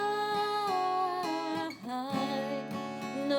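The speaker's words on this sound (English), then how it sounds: "I think that's a trickier strum to do with fixes for those bar chords, but it would sound like this" Acoustic guitar strummed in a syncopated pattern over barre chords, bright full chords with accented strokes and a quick chord change midway, played alone at moderate volume.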